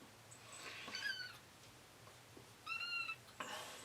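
A cat meows twice, once near the start and again near the end, with rising and falling calls that sound close but fairly soft against quiet room noise.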